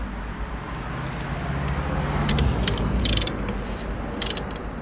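A 17 mm ratchet wrench clicks on the variator of a Booster scooter, bursts of close, sharp ratcheting pawl clicks over a steady mechanical hum, no talk.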